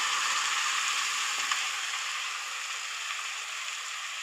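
Cooked soya chunks and black chickpeas sizzle in curry gravy in a hot pan, a steady close hiss of frying with faint stirring clicks, no voices.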